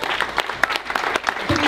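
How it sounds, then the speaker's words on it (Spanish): Brief dense applause from a church audience, steady and fairly close, with a voice cutting in at the end. "¡Un aplauso!"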